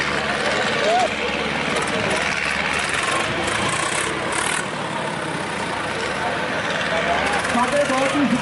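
A Swaraj 963 tractor engine runs at a tractor pulling event in Punjab, a loud continuous drone with a person talking over it.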